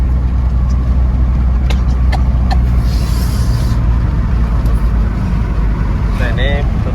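A Nissan X-Trail T31 with a CVT automatic gearbox drives on a busy road, its engine droning low and steady inside the cabin while someone speaks over it.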